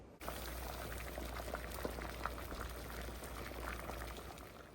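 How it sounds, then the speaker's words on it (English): Corn on the cob boils in a pot of water, giving a steady, close bubbling hiss with scattered pops and a low hum underneath, continuous throughout with no voices. "So that's a really quick bath in the boiling water."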